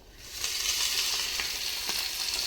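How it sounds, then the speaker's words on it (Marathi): Garlic hits hot oil in a tempering and breaks into a loud, continuous close-up sizzle that swells within half a second and holds steady throughout, with no voices. "ही लसणाची फोडणी नाही का लय जबरदस्त बसणार आहे मित्रांनो."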